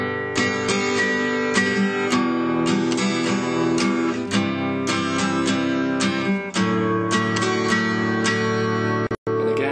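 An acoustic guitar strums a pattern played straight, with an even rhythm of chords ringing continuously, close and fairly loud, and one brief dropout near the end.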